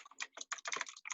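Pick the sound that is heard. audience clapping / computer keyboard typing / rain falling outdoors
computer keyboard typing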